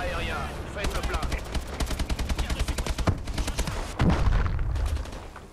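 Rapid automatic gunfire from air support in Call of Duty Advanced Warfare, exo survival mode, rattles in a steady fast stream, ending in a heavy boom, with someone talking over it.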